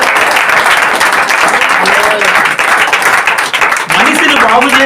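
A church congregation claps together after a pastor's sermon, a loud, sustained wash of applause lasting several seconds, with a voice speaking over the clapping toward the end.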